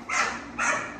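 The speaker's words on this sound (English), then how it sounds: "She's the only one barking, and she make everybody else bark" Two sharp dog barks, about half a second apart, close and fairly loud, with no voices.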